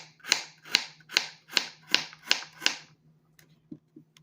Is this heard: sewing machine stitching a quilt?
no